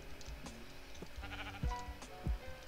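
Sheep bleat in the video game Minecraft, four or so short, nasal calls spaced about half a second apart over a soft background, fairly close and clear.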